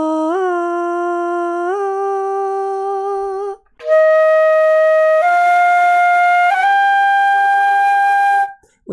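Flute phrase played with slurred, untongued notes, sliding smoothly between pitches in a connected legato line, two phrases separated by a short breath, clear and close, with no talking.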